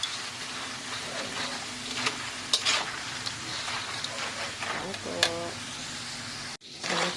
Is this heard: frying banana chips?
yes